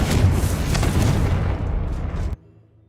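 A Confringo fire spell blasts in the Hogwarts Legacy video game, a loud, sustained booming roar of explosions lasting over two seconds before cutting off abruptly into near silence.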